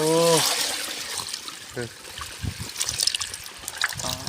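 Water trickles and splashes intermittently while fish are washed outdoors, a soft uneven dribble with occasional louder splatters, broken by brief bursts of talk at the start, middle and end.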